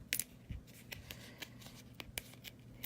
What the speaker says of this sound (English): We're going to peel dimensionals off